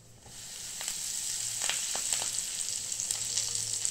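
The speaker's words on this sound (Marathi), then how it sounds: "आता आपण फोडणी करून घेऊ" Cumin, asafoetida and curry leaves crackle and sizzle in hot oil for tempering, a steady frying hiss with sharp pops and spits, close and fairly quiet.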